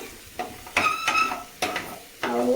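Onions fry in a pan for a dhaba-style paneer curry. A utensil scrapes the metal in loud, ringing strokes over a steady sizzle, with no talking.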